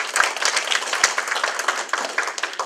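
Dense applause from a crowd at a campaign launch rally for state senate candidate Choi Seok-ho, steady clapping that fills the whole stretch without a pause.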